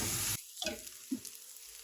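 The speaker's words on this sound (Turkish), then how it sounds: "Şimdi yıkadığımız pirinci ve bulguru ilave ediyoruz. Biraz daha kavurup eterle buluşturacağız." Washed rice and bulgur hit a hot pan and sizzle as they are sautéed, a close burst of frying hiss that drops away, followed by faint stirring scrapes.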